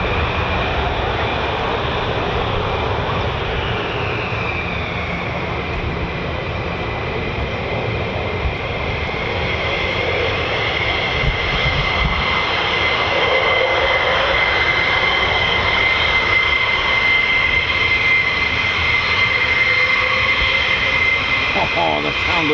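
F-15 and F-35 fighter jets at RAF Lakenheath give off a loud, steady roar of engine noise with a high whine rising and falling across it, unbroken for over twenty seconds, as people talk nearby.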